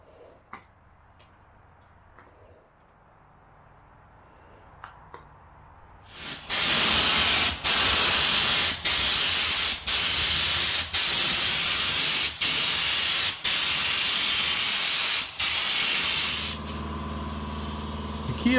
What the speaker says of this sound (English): This is being sprayed at about 50 psi.